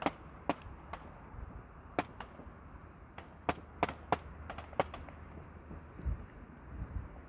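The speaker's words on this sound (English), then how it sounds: "that is gunfire and it is getting closer" Faint, scattered gunshots crack in the distance on the South West Coast Path between Downderry and Penlee Point, coming in irregular single pops and short bursts over quiet outdoor background, growing closer.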